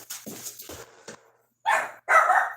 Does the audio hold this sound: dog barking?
yes